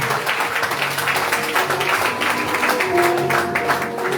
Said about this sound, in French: nous sommes capables de faire un tonnerre d'applaudissements